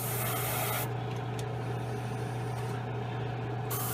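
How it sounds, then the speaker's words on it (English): Steady faint hiss of an airbrush or spray can misting paint onto a 1/35 Italeri Leopard 2 plastic model tank kit, running continuously over a low electrical hum, with brief pauses in the spray. No speech. "So you have to spray from multiple angles."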